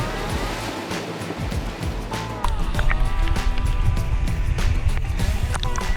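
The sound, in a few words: 4WD vehicle crossing a river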